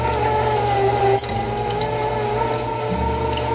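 A meat grinder for jerky sticks starts up on a cold morning, a steady close motor hum and whir with a brief clunk partway through and a slight shift in tone near the end.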